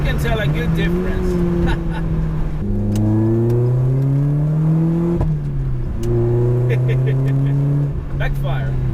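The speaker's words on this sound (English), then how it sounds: "Backfire. The owner has fitted on this car a straight pipe exhaust to enhance even more the driving experience." Lotus Elise S 220 with a 1.8 liter engine and straight pipe exhaust, heard from the cabin accelerating through repeated gear pulls, engine pitch climbing then dropping at each shift, loud and close, with sharp pops and talk over it.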